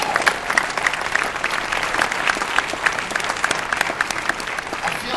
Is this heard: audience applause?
yes